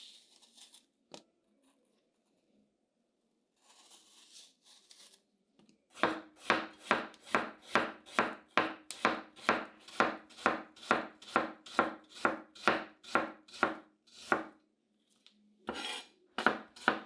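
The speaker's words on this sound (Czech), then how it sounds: "jabka oloupu a nakrájím je na tenké plátky" Peeled apples are cut into thin slices with a knife on a cutting board, producing a steady run of about twenty sharp, evenly spaced chops after a few quiet handling sounds.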